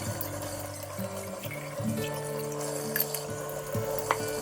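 Tap water runs and splashes in a kitchen while glass jars are washed, a steady faint stream with occasional clinks and drips, no talking.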